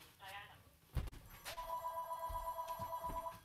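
A telephone rings in an interview setting, a steady sustained ringing tone following a brief clatter, continuing to the end with faint background noise and no one speaking over it.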